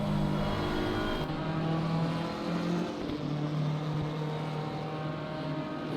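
Racing car engines in a sim racing league event at Watkins Glen, including a BMW M4 and a Porsche, drone steadily and loudly throughout with a continuous, layered whine and no talk.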